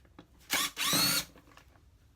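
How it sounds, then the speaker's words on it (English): A cordless drill driver whirs in two short bursts, the second longer, while pulling out parts of a hydraulic stool piston during a repair, close and loud against a quiet room. "So I've got a drill driver here."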